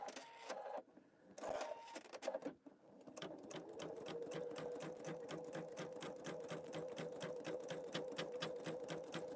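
A Pfaff Creative Vision sewing machine embroidering, starting with a few short bursts and pauses, then settling into a fast, even mechanical stitching rhythm that runs close and steady to the end.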